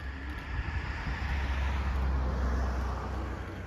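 Steady road traffic noise from cars passing along a street beside a home's Halloween yard display, a continuous low rumble that swells slightly midway and then eases, with no talking.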